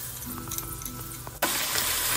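Coriander leaves frying in oil for a pickle, heard as a soft sizzle that jumps suddenly into a loud, continuous hiss of bubbling oil.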